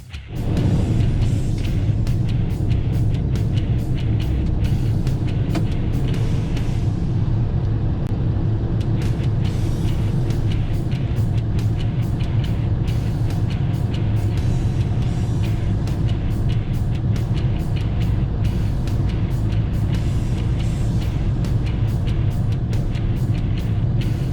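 A truck engine turns over and settles into a loud, steady diesel rumble, with a rapid ticking clatter over the idle as it pulls away, close and continuous, no talk.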